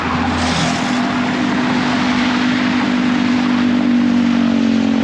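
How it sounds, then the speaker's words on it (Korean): Dense, continuous traffic roar on a busy road with overpasses near Chiang Mai, Thailand, engines humming close by and a steady low drone, no speech. "차 많은 도로가 너무 시끄럽고 힘들어가지고"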